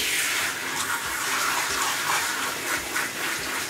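Running water rinsing shampoo off a dog during a bath, a continuous splashing gush from a tap or sprayer pouring over fur, steady and close with no talk.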